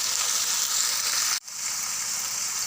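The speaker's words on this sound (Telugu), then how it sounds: "ఉల్లిపాయలు ఫ్రై అవ్వడానికి సాల్ట్ బాగా కలపాలి ఉల్లిపాయలు గోల్డెన్ కలర్ వచ్చే వరకు" Sliced onions frying in a pan, a loud close steady sizzle that cuts out for an instant mid-way and then resumes just as strong.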